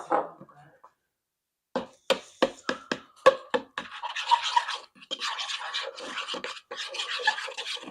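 A carnivore batter of beef flour and cottage cheese is stirred in a bowl with a utensil, giving a run of sharp scraping strokes followed by steady, close rasping and scratching.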